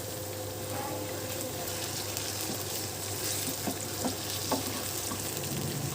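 Crushed ginger-garlic paste hits onions frying in a pan for palak gosht, giving a steady, dense sizzle with faint stirring scrapes. The sizzle stays close and continuous throughout.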